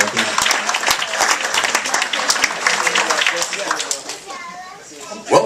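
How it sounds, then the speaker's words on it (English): Audience applause at a wedding reception as the best man finishes his toast, a dense, steady clapping from a crowded room that fades near the end, with children's voices mixed in among the clapping. "let's give the best man a round of applause"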